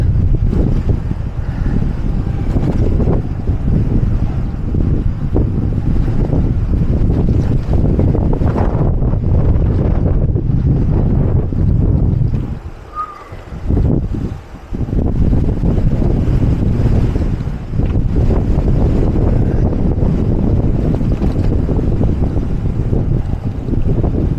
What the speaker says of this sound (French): Dès que je vais tourner, à mon avis, je vais me prendre du vent.